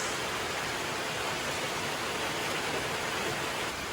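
Heavy rain during typhoon Basyang pours as a dense, unbroken hiss, steady and loud from start to finish with no voices.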